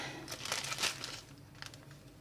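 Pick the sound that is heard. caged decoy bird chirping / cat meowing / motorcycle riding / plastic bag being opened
plastic bag being opened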